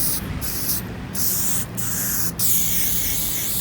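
A spray paint can blasts graffiti onto a wall in a loud, steady hiss, briefly cut off a few times between bursts.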